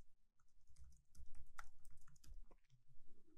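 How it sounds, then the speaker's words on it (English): Someone types a password on a computer keyboard, producing a soft run of close key taps in an uneven rhythm, quiet and with no talk. "in this box, type a password for the admin user"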